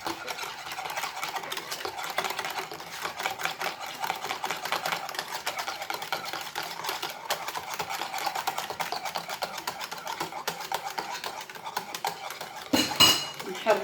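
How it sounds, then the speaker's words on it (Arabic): Warm milk being mixed for homemade yogurt: a rapid, continuous clatter of a utensil whisking against a pot, steady and close, with a brief louder knock near the end. "ونخلطوه مزيان"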